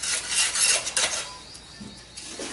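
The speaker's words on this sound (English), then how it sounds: "That's my assist filtering some sand in preparation of" Sand for repotting a bonsai lemon tree is sifted through a screen, giving a bright gritty rasping and rubbing that comes in uneven bursts and then fades to quieter scraping.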